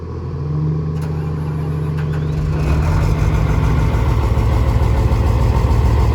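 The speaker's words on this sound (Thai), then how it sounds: "ตอนนี้รถบำรุงทาง ต่างๆครับ ได้ติดเครื่องยนต์วอร์มรอแล้วนะครับ" Diesel engines of railway track maintenance vehicles, including a ballast tamping machine, idle while warming up: a steady low rumble close by that thickens and grows louder partway through, with no one talking.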